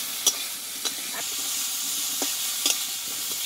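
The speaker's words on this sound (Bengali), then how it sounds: "আবারও আমি কিছুক্ষণ ভালোভাবে একটু কষে নেব, এতে কাঁচা গন্ধটা চলে যায়।" Pumpkin vine stems, already softened, are stirred and sautéed in a pan: a steady close sizzle with a few sharp scrapes and clicks of the spatula scattered through, no talking.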